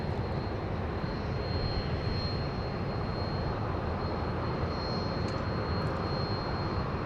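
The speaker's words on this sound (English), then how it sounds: "it's going to wait for a Bombardier Global 6000 coming in" A Bombardier Global 6000 business jet coming in to land, its engines producing a steady loud broadband roar with a faint high whine, constant throughout.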